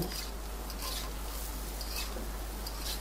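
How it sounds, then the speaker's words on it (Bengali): Potatoes frying with salt in a pan while being stirred, a steady close scraping and soft sizzle running continuously without pause. "লবণটা আপনাদের স্বাদ অনুযায়ী দিয়ে নেবেন আর মিশিয়ে দিয়ে আরও কিছুক্ষণ এভাবে করে ভেজে নেব"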